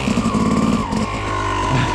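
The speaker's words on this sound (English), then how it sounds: "spin the tire up" Rear tire of a motorcycle out on singletrack spinning up with a loud, close engine whine that holds steady, rough and buzzing, with no one talking.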